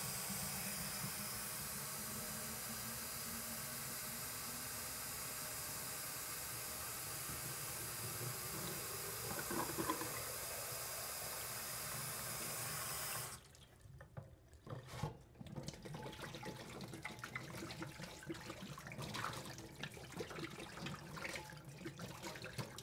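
Tap water runs steadily into a container in a sink, a continuous broadband rush that cuts off abruptly near the end, leaving faint drips and handling noises.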